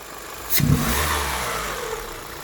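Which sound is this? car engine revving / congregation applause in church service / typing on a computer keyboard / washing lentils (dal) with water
car engine revving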